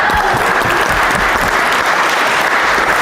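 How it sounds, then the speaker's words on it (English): A concert audience at a Tuba Christmas event, held in a Methodist church, gives a loud, steady round of applause, thick and uninterrupted. "Give yourselves a round of applause."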